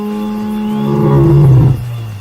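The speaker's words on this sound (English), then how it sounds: "Even their roar had a deeper rumble just like the male lions." A lioness gives a loud, deep roar that builds and then sinks into a low, drawn-out rumbling growl, close and alone.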